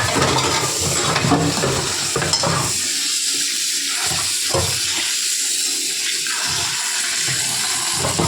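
Tap water runs steadily and loudly while food is washed under it, the splashing changing as the hands move through the stream.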